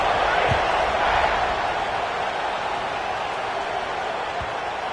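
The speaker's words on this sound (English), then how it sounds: "this crowd is buzzing after that last score" Broad, steady roar of a football stadium crowd at a Tennessee Volunteers game, a continuous loud buzz filling the space just after a kickoff, with a couple of low thumps near the start and end.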